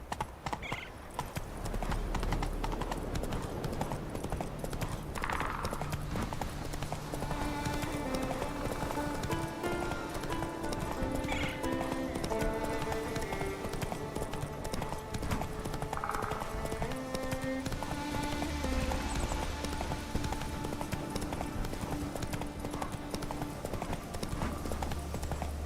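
A horse gallops with steady clip-clop hoofbeats and occasional whinnies in The Witcher 3 video game, set against continuous game music throughout.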